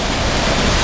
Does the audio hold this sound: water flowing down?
yes